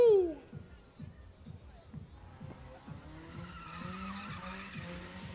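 A Dodge Scat Pack does a burnout in the pits at Lancaster Speedway's Big Indian drift event, tires squealing and skidding in repeated rhythmic bursts over the engine, fairly faint and distant.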